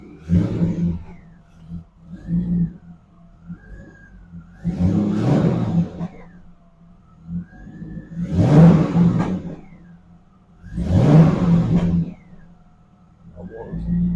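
A warmed-up car engine fitted with an SLP cold air intake idles and revs repeatedly, with four or five loud swelling revs that fall back to a steady idle, recorded close by without talk.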